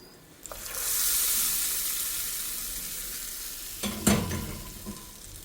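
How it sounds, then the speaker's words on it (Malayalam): Asafoetida is tempered in hot oil, a loud, steady sizzle that swells after a brief start and then slowly fades, with a clatter of stirring toward the end and no speech. "കായം ഇങ്ങനെ മുരിഞ്ഞ് വന്നാൽ നല്ല മണം ഉണ്ടാവും."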